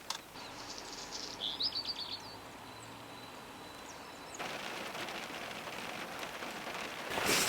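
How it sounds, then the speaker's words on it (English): Rain in the Swiss Alps falls steadily with a soft hiss that grows heavier partway through, while birds chirp faintly in the background. "It's actually raining quite heavily."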